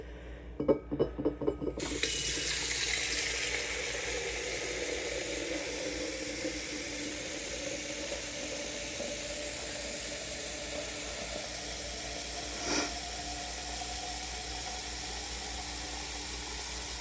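Water gushes from an outdoor tap to fill a bird bath for birds and squirrels, starting after a few knocks and running as a steady, close hiss with a brief splash near the end.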